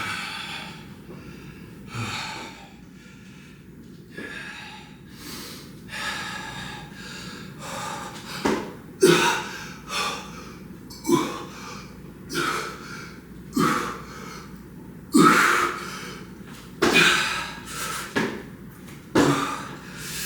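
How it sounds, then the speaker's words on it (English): Hard breathing during a full-body workout of deadlifts and pushups: a close run of sharp, forceful exhales and snorting breaths that grow louder and more regular, about one every second or so. "Deep breaths."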